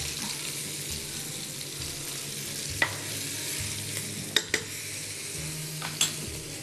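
Pasta with fish sauce sizzles steadily in a frying pan, with a few sharp clicks of a utensil against the pan as it is stirred, close and continuous.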